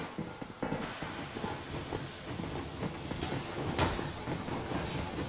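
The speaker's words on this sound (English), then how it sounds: "Yermak, full steam ahead." In Metro Exodus an armoured steam train pulls away, with a steady hiss of steam under clanking and rumbling from the rail cars and a few sharp metallic knocks, moderately quiet and with no voices.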